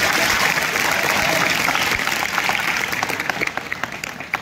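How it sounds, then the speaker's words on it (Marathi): School audience clapping for the teachers at an event at G. V. Khade Vidyalaya, a dense steady applause that thins out toward the end into scattered separate claps. "जोरदार टाळ्या वाजवा सगळ्या शिक्षकांसाठी"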